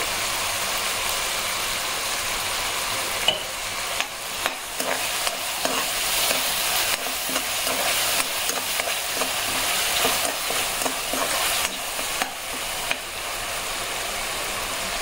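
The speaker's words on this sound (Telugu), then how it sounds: "ఇదండి ఉల్లిపాయ వేగింది, ఇప్పుడు టమోటా కూడా వేసేసాను." Onion and tomato sizzle steadily in a pan for a dhaba-style masala, with frequent scraping strokes of a spoon stirring throughout, close and continuous with no talk.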